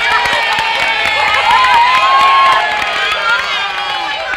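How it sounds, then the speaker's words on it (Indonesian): A studio audience on an Indonesian variety show cheers and claps, a loud, dense crowd roar with whoops and children's shouts running continuously under and around excited voices. "Tepuk tangan kali"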